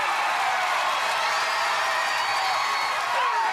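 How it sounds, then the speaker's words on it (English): A crowd at the American Ninja Warrior Dallas finals cheers and whoops steadily for a competitor on the course, forming a continuous wash of excited noise at moderate distance. "This crowd starting to get behind Eric Brown"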